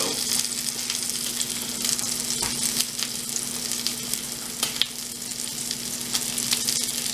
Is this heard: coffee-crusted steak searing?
yes